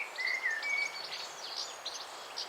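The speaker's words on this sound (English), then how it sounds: "There's a few goldfinches around in the hedge over there." Goldfinches in a garden hedge give bright, twittering chirps in short bursts, with a call on the wing, moderately near over a soft outdoor background.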